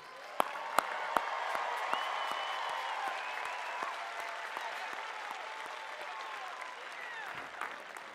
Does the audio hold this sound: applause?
yes